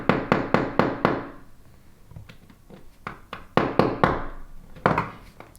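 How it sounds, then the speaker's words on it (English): A small hammer taps a pin in a Casio Edifice metal watch bracelet: a quick run of five sharp taps, a pause with faint ticks, then scattered single and paired taps. "Now I'm going to take the small hammer."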